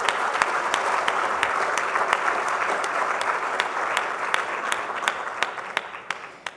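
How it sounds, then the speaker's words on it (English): Conference audience applauding the event's sponsors, a broad continuous round of clapping that gradually thins toward the end, leaving a few distinct individual claps. "So can I ask you all to give a big round of applause to our sponsors?"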